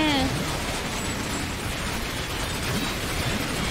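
Chaotic Earth Defense Force 6 battle noise with dense, overlapping explosions and gunfire bursts that blur into a continuous loud rumble; a voice can be heard faintly at moments.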